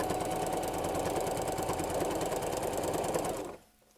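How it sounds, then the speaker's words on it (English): A sewing machine stitching zigzag quilting lines across a mug rug, a steady fast mechanical whirring hum that runs loud and even, then stops abruptly near the end, close up. "So I'm just going to sew across and intersect."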